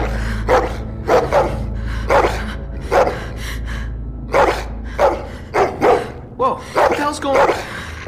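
A dog barks repeatedly in The Walking Dead video game, a run of loud, close barks in irregular bursts with short pauses between them.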